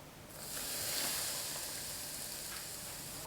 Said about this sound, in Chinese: 放入刚刚烧开的热油60毫升